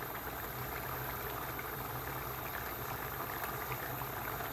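Water for chickpea masala bubbles steadily in a pot, a continuous rolling boil with a soft, even hiss and no talking.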